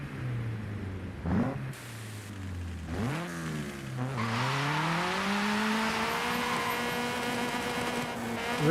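A car engine in the racing game Forza Horizon 5 revs repeatedly through rising gear pulls, climbing toward a 9,300 RPM redline with a sustained high buzzing drone, loud and alone.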